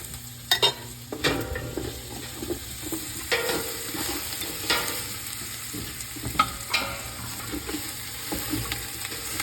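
Crabs sizzle with garlic in a hot pan, a steady frying hiss broken by clatters and scrapes of stirring, close and fairly quiet, with no talking.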